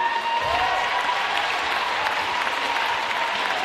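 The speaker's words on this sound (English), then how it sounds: "One more round of applause for all the team, both teams, and of course all the players and officials." Sustained applause from a crowd at a netball grand final, honouring both teams, players and officials; dense, steady clapping fills the whole stretch without a break.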